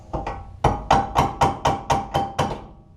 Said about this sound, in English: we can take a hammer and tap the back side of it